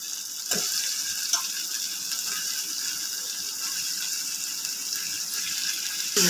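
Chicken pieces dropped into fried spice masala in a pan, giving a steady, even hiss of frying with a couple of soft knocks and no voices.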